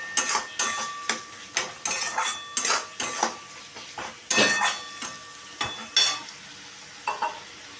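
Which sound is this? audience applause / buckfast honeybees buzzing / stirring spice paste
stirring spice paste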